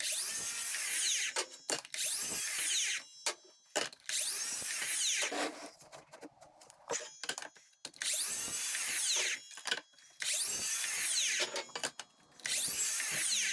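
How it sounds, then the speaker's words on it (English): A drill press bores a hole through clamped wood in loud, sustained whining bursts, several cuts separated by short pauses and quieter gaps. "take it over to the drill press and then cut a hole out for that."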